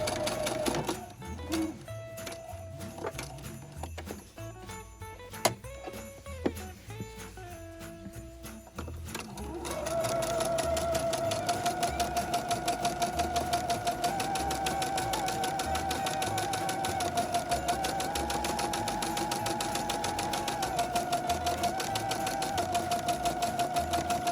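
A sewing machine stitches Christmas napkin pieces with a steady, fast mechanical whir after some irregular stops and handling clicks at the start, running close and continuous, no talking.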